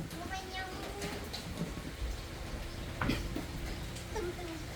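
Rain falls steadily in a continuous soft patter, with a few louder splashes and distant rumbles, while voices speak faintly in the background.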